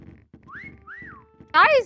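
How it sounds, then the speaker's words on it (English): Short two-note whistled phrase from a player character in a multiplayer video game, rising then falling, heard under low murmured speech, followed by a loud burst of another game sound. "Anyone hear him whistle? Because I did."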